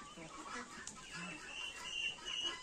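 Crested and Marans hens cluck softly in a quiet farmyard, with scattered low clucks and faint bird calls at a distance.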